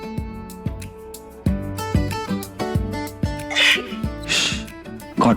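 A single sneeze bursts out in a room amid a run of sharp percussive music hits and louder swells, close and brief, with a background score sounding throughout.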